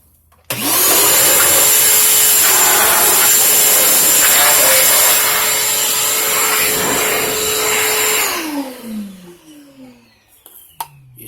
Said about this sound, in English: We're gonna go ahead and use our shop vac, and we're gonna go ahead and start cleaning it.